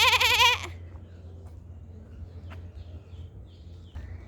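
One close goat bleats loudly and tremulously at a farm in Samut Songkhram, Thailand. Then comes a quiet outdoor stretch with faint scattered bird chirps and a low background hum.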